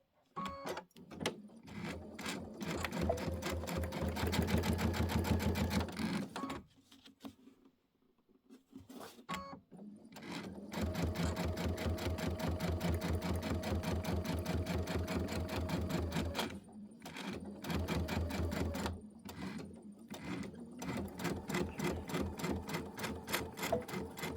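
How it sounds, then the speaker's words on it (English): An embroidery machine stitching a tile design, running in rapid mechanical bursts with a brief pause partway through, close and steady, with no talk. "let's sew the rest"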